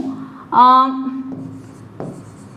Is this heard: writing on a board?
yes